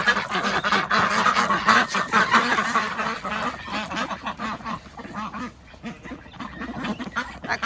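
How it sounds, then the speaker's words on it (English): Ducks and geese in a backyard poultry pen, kept alongside cream legbar hens, quack and honk continuously in a loud, overlapping chorus that eases off slightly toward the end. "You can hear the ducks before you even see them."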